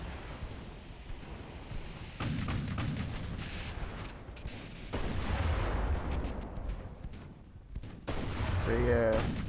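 Naval battle in Ultimate Admiral: Dreadnoughts, with ships firing banks of 4-inch guns at battleships: repeated booming salvos and crackling volleys over a wash of sea noise, loud and sustained with a voice talking over it.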